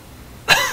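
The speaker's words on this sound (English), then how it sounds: "Getting that cough." A single short cough bursts out near the end, after a moment of quiet room noise.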